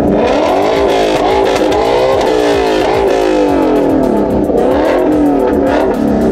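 A car engine revs hard and loud through a loud exhaust in a decibel test, rising and falling in repeated roaring bursts close by.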